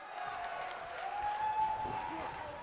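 The crowd in a WWE 2K19 wrestling match gives a sustained roar of cheering and murmuring that swells and holds without a break, under a commentator's voice.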